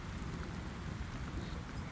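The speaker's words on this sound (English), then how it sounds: "You start to feel a light rain as you hear a thunderstorm starting to come through." Light rain patters steadily as a thunderstorm rolls in over a muddy field, a faint, even hiss of drops with a low rumble underneath and no voices.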